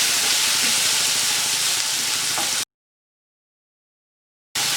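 Okra and tomato sautéing in a pan for vendakkai sambar give off a steady, even sizzle and hiss for a few seconds. Then there is a stretch of total silence before the sizzling comes back.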